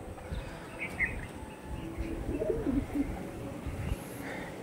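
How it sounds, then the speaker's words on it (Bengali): Pigeons of a fine-toed breeding pair coo softly in the background, low murmuring calls repeating under steady ambient noise, with a faint higher chirp or two from other birds. "একদম সরু সরু পাঞ্জা, হালকা পর নিয়ে, খুব সুন্দর কোয়ালিটির পায়রা"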